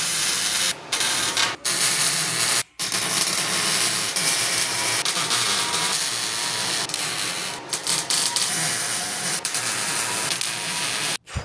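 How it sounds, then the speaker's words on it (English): Steady, loud crackling hiss of MIG welding as a steel toolbox is welded down onto a welding cart, running nearly continuously with a few brief pauses between beads. "Now we're just gonna weld this on to extend it out"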